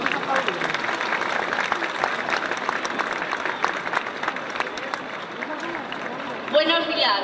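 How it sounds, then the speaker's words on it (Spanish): A crowd applauds steadily at a town festival proclamation in Tudela, dense and continuous clapping close by, with a few voices mixed in before it fades near the end. "Recibámoslos con un fuerte aplauso."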